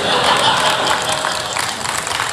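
A church congregation applauding during a sermon, a dense, loud, steady patter of many hands clapping that carries on evenly and fades slightly toward the end.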